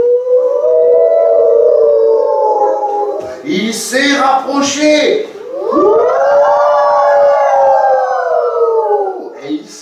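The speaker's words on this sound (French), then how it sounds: "pendant la nuit, dans la forêt, au loin, on l'a entendu. Un loup." A wolf howls at night in a forest as a story sound effect: long, loud, rising and falling howls with a brief spoken French line between them.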